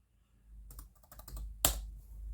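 Quick keystrokes on the keyboard of a Jumper Ezbook A5, a cheap laptop, a brief close burst of light clicky typing ending in one firmer key press.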